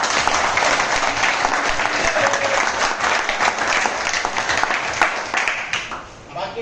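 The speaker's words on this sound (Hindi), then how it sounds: "तो मैं निवेदन करूंगा एक बार पिता के लिए जोरदार तालियां बजाएं।" Loud, sustained applause from an audience at a defence academy ceremony, dense clapping running steadily throughout and easing slightly near the end, with faint voices mixed in.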